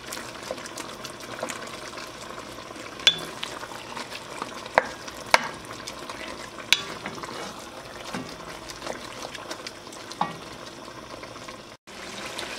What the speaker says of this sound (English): So this is the meat on the fire for about 10 minutes now